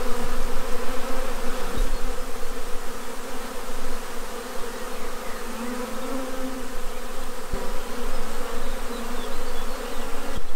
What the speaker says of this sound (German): Welch ein Haufen Bienen.